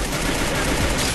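Rapid gunfire crackles through a competitive video game tournament match, loud and dense bursts of shots packed tightly together with no pause.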